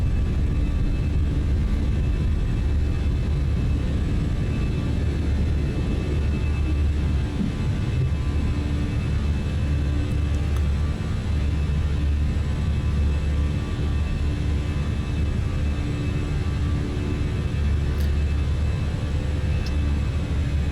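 Fenix A320 airliner engines in Microsoft Flight Simulator climbing after takeoff, a loud continuous jet roar with deep rumble and steady whine, unbroken and even throughout with no talk.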